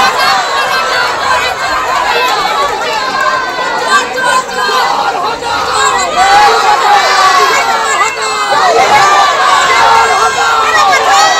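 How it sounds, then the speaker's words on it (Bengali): A dense, loud crowd chants thief slogans at a Trinamool councillor in ward 25 of Rajpur Sonarpur municipality, with shouting voices and babble filling the whole stretch without a break. "তৃণমূল কাউন্সিলরকে দেখে চোর স্লোগান দেওয়া হয়েছে"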